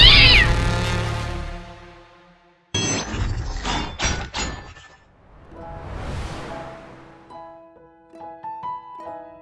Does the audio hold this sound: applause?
no